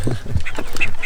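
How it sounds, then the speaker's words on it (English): Quick, bright duck quacks repeat in a busy cluster over a background of game-like sound effects, close and fairly loud. "Let's feed the ducks"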